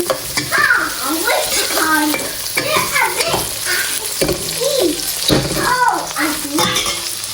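Loud stirring and scraping in a sizzling pan, a spatula pushing and mashing tomato around in repeated strokes as it sautés, close up, with no talking.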